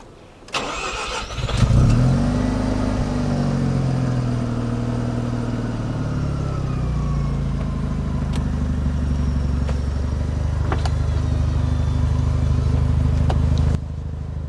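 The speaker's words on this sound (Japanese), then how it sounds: "じゃあ早速エンジンかけてみましょうか。" A Mazda FD3S RX-7 engine cranks and catches with a quick rising burst, then settles into a loud, steady, slightly lumpy idle close by that carries on unbroken for over ten seconds.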